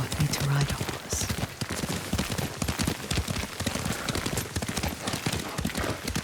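Horse hooves clip-clop in a steady trotting rhythm during a ride in the Ghost of Tsushima video game, loud and continuous with a voice speaking over them.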